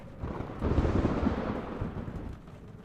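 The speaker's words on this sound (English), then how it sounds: "You hear the sound of the wind and the thunder." Deep rumbling roar swelling and sustaining like rolling thunder with gusting wind, broad low-frequency energy throughout, no voices.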